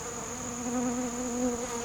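Honeybees buzz steadily around plates of sugar syrup, honey and dextrose, a close, continuous insect drone with a faint tonal whine that swells gently, heard alone without voices.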